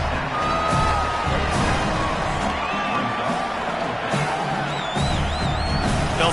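Stadium crowd at a football game roars steadily as the kicker lines up on fourth down, a dense, sustained wash of cheering and shouting with occasional whoops and whistles rising above it.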